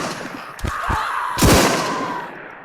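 Gunshots ring out in the horror game We Are Alive, set in a decrepit asylum, three sharp close reports spaced about half a second apart, the last trailing into a long reverberant tail, with no talking.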